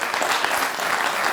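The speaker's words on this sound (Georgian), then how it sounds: "აპლოდისმენტები" A studio audience on a Georgian TV game show claps in a dense, steady burst of applause, loud and close, with no talk over it.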